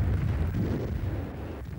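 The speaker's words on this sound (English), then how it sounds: "it impacted with the ground in a great explosion" A V-1 buzz bomb striking the ground and exploding, heard as a deep, rumbling low-frequency blast that rolls on for under two seconds without any talk.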